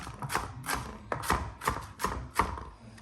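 A knife chops vegetables on a cutting board in about seven sharp, evenly spaced strikes, close and clear with a light rocking rhythm and no talking.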